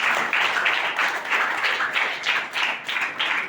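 An audience claps at a public gathering in sustained applause that rises and falls in waves, with dense overlapping hand claps filling the whole stretch.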